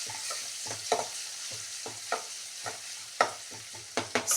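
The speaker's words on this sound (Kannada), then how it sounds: "ಈಗ ಬೆಳ್ಳುಳ್ಳಿಯನ್ನು ಕೂಡ ಹಾಕ್ತಾಯಿದ್ದೇನೆ. ಹಾಗೆ ಸಾಸಿವೆ ಕಾಳು. ಬೆಳ್ಳುಳ್ಳಿ ಫ್ರೈ ಆಗಬೇಕು." Garlic and mustard seeds frying in a pan, a soft steady sizzle broken by repeated scraping stirs and light pops, close and fairly quiet with no talk.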